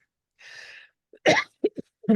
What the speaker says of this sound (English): All of a sudden, I've got a cough.